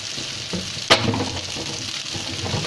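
Chili fried rice (nasi goreng cili api) sizzling in a hot pan as it is stirred, with a steady frying hiss and a sharp scrape of the spatula near the one-second mark, followed by softer stirring clatter.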